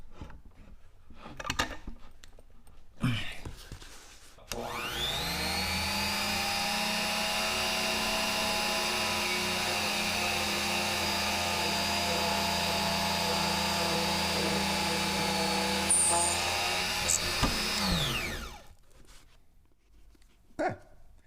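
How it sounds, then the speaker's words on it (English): A mini desktop drill press whirs up and drills through a full-size book, a steady high-pitched motor whine lasting about fourteen seconds before spinning down, with a few handling clicks before and after. "I'm gonna see if I can drill through a full-size book."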